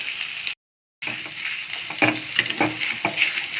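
Red chillies and coriander seeds dry-roasting or frying in a pan make a close, crackling sizzle, broken by a half-second gap, then dotted with sharp pops and utensil scrapes; no speech.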